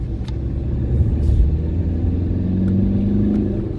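A Tata Nexon drives along a road toward Delhi and swings through a turn, its engine a steady, close rumble that swells slightly mid-way, with faint road noise throughout and no voices.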